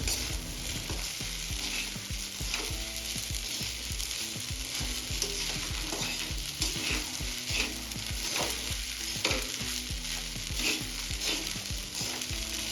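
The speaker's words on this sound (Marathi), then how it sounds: "आता यामध्ये आपण भिजलेला साबुदाणा ऍड करून घेऊया साबुदाणा छान मिक्स करून घ्यायचा सर्व साहित्यामध्ये" Soaked sabudana is stirred into a sizzling khichdi mixture in a pan, with a steady frying hiss and repeated scraping, clinking strokes of a spoon against the pan, fairly close.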